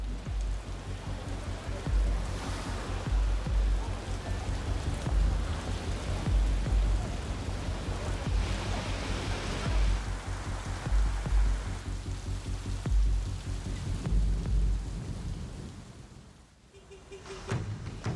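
Heavy rain falls steadily over a river area in Japan, a dense, continuous wash of drops with low rumbles of thunder beneath, easing slightly near the end.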